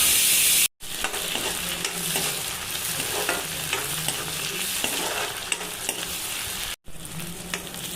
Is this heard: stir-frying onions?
yes